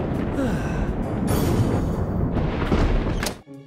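Thunder sound effect in a paper stop-motion animation: a dense, rumbling roll with sharper cracks building through the middle, ending abruptly.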